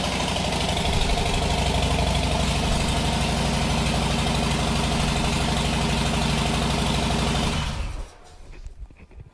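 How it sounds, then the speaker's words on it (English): A Harley-Davidson motorcycle fitted with Vance & Hines slip-on exhausts idles close by, a steady deep rumbling throb that holds evenly before cutting off near the end, leaving quieter residual noise. "Wow, what an improvement over that stock exhaust."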